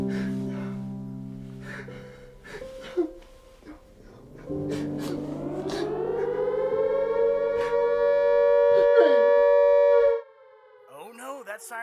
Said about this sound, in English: Oh no, that siren means it's 15 minutes to the top of the hour.